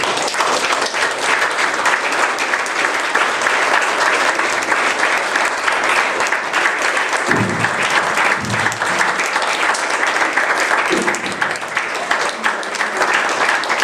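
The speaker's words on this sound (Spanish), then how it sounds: "Fuerte el aplauso por ahí." A congregation at a church service claps steadily and loudly, a thick continuous roar of many hands that holds without pause, with a few faint low voices briefly surfacing partway through.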